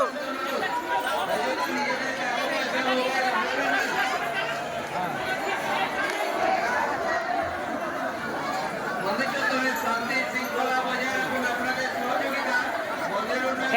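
A dense crowd of pilgrims walking to Tarakeswar near the Dakat Kali temple, where many people splash and pour water; loud, constant overlapping chatter and voices surround the listener throughout, with occasional laughter.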